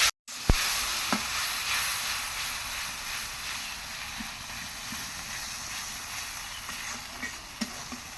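A paste of ground cumin and garlic with turmeric and salt fries in a pan, holding a steady soft sizzle and hiss throughout, with a few sharp clicks and taps of stirring, and no talking.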